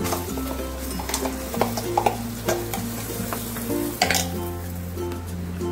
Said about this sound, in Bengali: কয়েক সেকেন্ড একটু নাড়াচাড়া করে এবার আমি ডালটা দিয়ে দেবো।